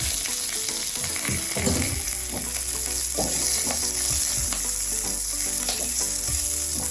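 Green chillies sizzle and crackle steadily in hot oil in a pan, with occasional stirring scrapes over the loud, continuous frying hiss, prepared for a ridge gourd (beerakaya) roti pachadi.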